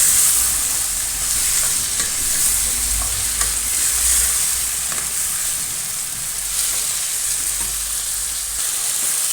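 Onion stalks fry in hot oil in a pan while being stirred, giving a loud, continuous close-up sizzle with scraping stir sounds throughout.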